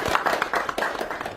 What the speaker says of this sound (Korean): 이럴 때 박수 치세요